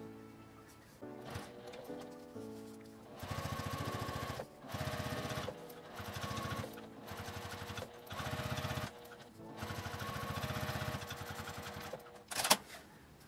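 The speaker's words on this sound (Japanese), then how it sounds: "縫い代は上に倒して端ミシンをかけます。" A sewing machine edge-stitches a folded-up seam allowance in repeated close runs of steady buzzing, each a couple of seconds long, separated by short pauses and a brief clack near the end.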